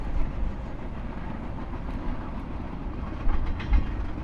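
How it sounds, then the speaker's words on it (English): An eastbound train rolls past in the Mojave desert, a steady heavy low rumble of rail cars with faint clacking, loud and continuous throughout. "Here's another one of those trains heading east."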